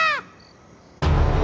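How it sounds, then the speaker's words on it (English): A crow caws briefly and faintly at the start in the TV series BEEF, followed by near silence and then a sudden burst of loud, broadband noise. "The crows sat there and had a full conversation about them."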